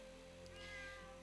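A cat meows in a video game, one faint, short mew over a steady low hum of game background sound, with no one talking.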